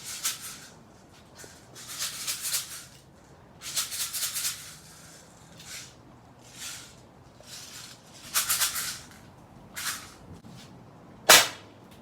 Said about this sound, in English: now I'm gonna go ahead and test with the M4 BB gun